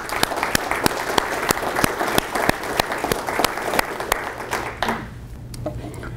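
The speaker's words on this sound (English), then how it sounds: "Please join me in applauding their efforts." An audience applauding city staff members at a 2015 State of the City address: dense, steady clapping with distinct sharp claps, fading out abruptly just before the end.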